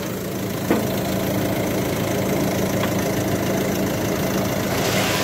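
A Peugeot 308 engine idling with a knocking rattle, a steady loud close-up rumble with a faint repeating tick and one sharp knock near the start, no voices.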